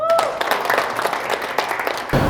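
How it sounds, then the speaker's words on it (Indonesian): Applause from a group of students closing out a recorded teaching session, a short burst of dense clapping, fairly close and steady, with a voice briefly audible at the start. "tepuk tangan untuk kita semua"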